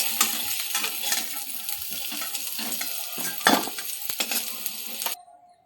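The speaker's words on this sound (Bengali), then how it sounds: "ইঁচড়গুলো ভেজে নেব।" Jackfruit pieces fry in a pan with a dense, bright sizzle while a spatula stirs and clinks against the metal in irregular bursts, ending abruptly.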